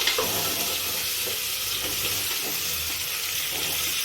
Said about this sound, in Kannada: ಇದು ಚೆನ್ನಾಗಿ ಫ್ರೈ ಆಗಬೇಕು.